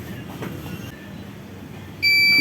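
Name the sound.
heat press timer beeping during sublimation printing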